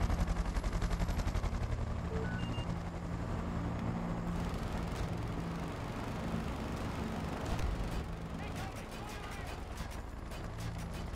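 Minigun fire from a UH-60 helicopter in the video game Battlefield 2042, a dense, continuous mechanical roar of rapid fire running throughout, with sharper bursts toward the end and someone talking over it.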